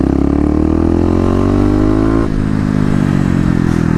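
A Kawasaki KLX250 motorcycle accelerates in third gear, its engine note climbing steadily and loud up close, then dropping briefly at a shift or throttle change before droning on.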